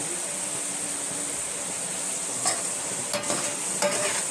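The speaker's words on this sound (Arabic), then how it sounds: "وبسخن السمنه كويس جدا فيها، لان انت لما الكبده بتنزل الميه بتاعتها بتنشف معايا" Liver sizzles in hot ghee in a pan for Alexandrian-style liver, a loud steady frying hiss with a few brief scraping stirs; no speech.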